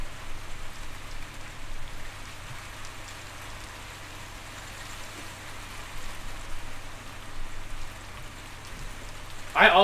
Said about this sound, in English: I also love the sound of rain.